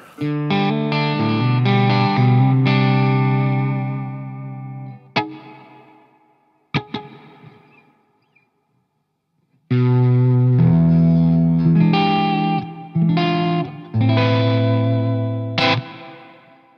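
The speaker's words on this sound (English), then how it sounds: "So the next one along is a hall reverb." Electric guitar played through a Strymon Big Sky pedal on its hall reverb setting, strummed chords and single notes ringing into a long spacious decay that fades almost to silence before playing resumes.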